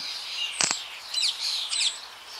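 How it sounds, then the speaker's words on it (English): Small birds chirp in a park, giving a few quick bright tweets and short trilled calls over a steady hiss of distant birdsong, moderately faint and with no voices. "The park was full of birds chirping away"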